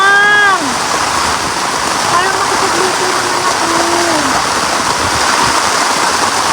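Heavy typhoon rain pours down on a campsite, a dense, constant hiss that fills the whole clip, while someone talks close by over it.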